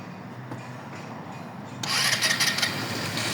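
A new scooter's engine catches partway through after a quiet, scraping lead-in, then idles with an uneven, brighter rattle, close by and without talk.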